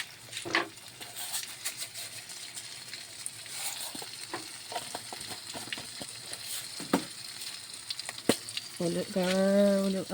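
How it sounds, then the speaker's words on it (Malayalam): Mustard seeds and fenugreek crackle and sizzle in hot oil for a mango pickle, a steady close frying hiss with scattered pops and a brief louder burst near the end. "നമുക്ക് അതിലേക്ക് ഉലുവയും കടുകും ഇട്ടെടുക്കാം."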